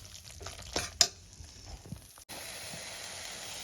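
Tomato masala for tomato rice being sautéed in a pan, with quiet scraping stirs and a sharp clank, then a soft steady sizzle, fairly faint and with no talking.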